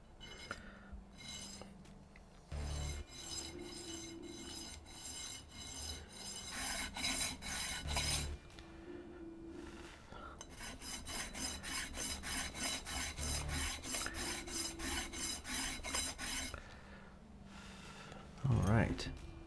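A file rasping a brass ring piece smooth, rhythmic bursts of gritty back-and-forth scraping strokes close up, pausing between sets, with talk heard intermittently.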